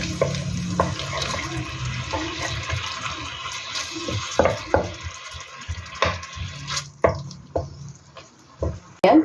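Meat broth sauce for steamed tofu with mushroom sauce bubbles and simmers in a pan, a wet burbling with pops and splashes that grows more irregular toward the end.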